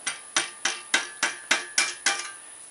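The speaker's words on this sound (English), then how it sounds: "I just grabbed a rubber mallet and gave it a few whacks on that high place there" A rubber mallet strikes a metal scythe nib grip eight times in an even rhythm, each whack close and sharp with a short ringing decay.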